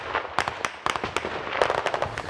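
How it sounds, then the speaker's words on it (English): Explosions from trench warfare in the Donetsk region sound in the distance, a quick run of dull thuds and cracks at irregular intervals under outdoor ambience. "you can hear some of the explosions in the distance and not very far away from us"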